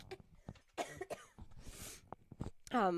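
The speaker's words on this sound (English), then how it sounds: "I'm going to cough in your ear in a second" A few sharp coughs break up the clip, close and fairly loud, with a breathy rasp between them.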